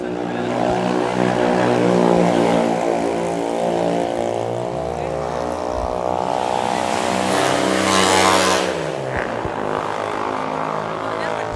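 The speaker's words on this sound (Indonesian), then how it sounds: "Motornya kenceng-kenceng ya di sini. Iya, berisik doang" Loud motorcycles revving and passing on a street at night, engines rising and falling close by, with people talking over them.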